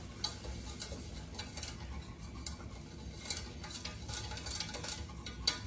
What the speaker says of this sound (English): So 5 tablespoons of flour. And let me get this stirred up.